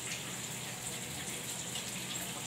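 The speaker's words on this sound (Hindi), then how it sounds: "हल्का पानी डाल के जाल भी धो लेते हैं" Water is poured gently over a kitchen strainer net to rinse it, making a soft, continuous splashing trickle that stays even and fairly quiet throughout.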